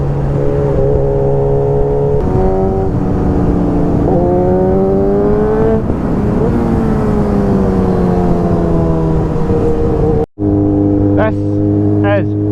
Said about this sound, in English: You can hear the GTR, man.